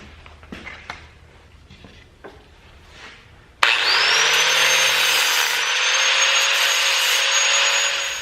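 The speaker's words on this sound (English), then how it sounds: "I'm just gonna cut the edges of these rivets out here just so they're flat" A few faint scrapes and taps, then a power cutting tool abruptly spins up and grinds steadily at the rivet edges on a C4 Corvette front control arm, a loud, sustained high whine close by.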